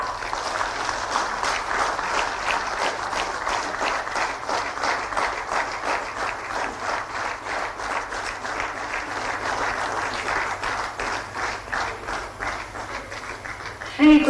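Audience at an official ceremony where appointment letters are handed out, applauding in a long, even stretch of dense clapping that holds steady, ending with a brief louder sound.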